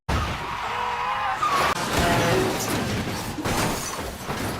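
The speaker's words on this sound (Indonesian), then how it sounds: "Mobil para gangster ini tak bisa dikendalikan dan ditabrak truk." A gangsters' car skids out of control and is struck by a truck, with a sustained tire screech and loud crashing impacts that stay dense and loud throughout, no talk.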